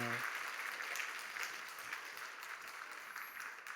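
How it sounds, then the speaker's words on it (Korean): A church congregation at Sunday worship claps after a hymn, a faint, distant and even patter of applause that holds steady and slowly fades. "들어가는 동안 박수 한 번만 더 할까요?"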